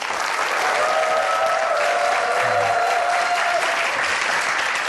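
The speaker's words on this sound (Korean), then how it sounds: "박수 소리가 전화 왔을 때보다 훨씬 더 좋아요" A studio audience applauds steadily throughout as a restaurant franchise CEO is welcomed onto a Korean TV talk show, the dense clapping filling the room at a constant, fairly loud level with a faint tonal hum underneath.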